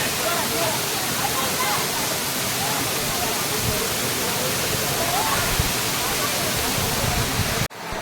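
Roaring waterfall at Kumbhavurutti in forest on the Kerala–Tamil Nadu border, a loud, steady, dense rush of falling water filling the whole stretch, cutting off abruptly just before the end.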